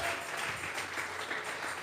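A church congregation clapping together as an offering of praise during a Spanish-language sermon, a steady dense wash of applause heard at a moderate distance without pause.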